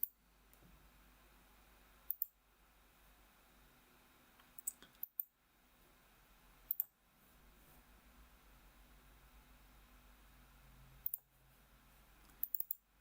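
A computer mouse clicking several times at irregular intervals, sharp close clicks spaced seconds apart over a faint steady hiss, with no talk.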